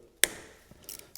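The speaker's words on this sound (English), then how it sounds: "I'm going to break the lock of this bolt here," A Loctite-locked brake caliper bolt on a Honda CB500X motorcycle breaks loose with one sharp, close crack, followed by a few faint ticks of the tool.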